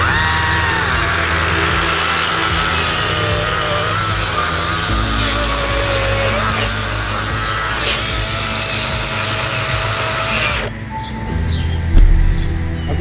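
A loud, continuous cordless power saw whines and buzzes steadily while cutting a pipe, its pitch shifting slightly, then cuts off abruptly near the end.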